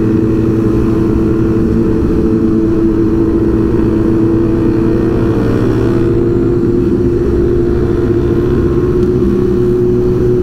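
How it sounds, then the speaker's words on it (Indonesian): Motorcycle with a loud aftermarket exhaust at a Sunday-morning group ride in Lampung, rumbling steadily and close for the whole stretch, a deep continuous engine drone without clear revving bursts. "Knalpot gacor kali ini."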